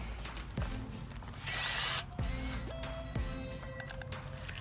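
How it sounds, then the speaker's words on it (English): A power drill whirs in short bursts, spinning up and stopping several times at close range, with mechanical clicks between runs, drilling holes in a DIY turtle-pond filter. "now what we're gonna do, drill a bunch of holes in there"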